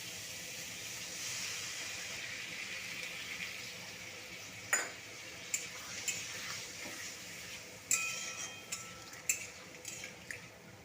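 Water goes into a hot cooking pan of prawn and elephant foot yam curry, setting off a steady hiss and sizzle, then a few sharp metallic clinks and stirring knocks near the end.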